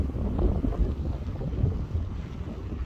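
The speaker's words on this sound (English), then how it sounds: "Now that I recorded, the wind's starting to pick up." Strong wind buffets the microphone outdoors while cycling around a campus, a continuous low rumbling roar with no break and no voices.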